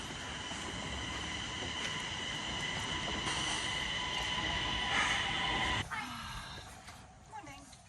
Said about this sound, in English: That will always start with a train ride.